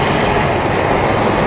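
A metro train rumbles loudly overhead on an elevated track, a steady close roar of wheels and rail with faint clatter, heard from below where cyclists shelter from light rain.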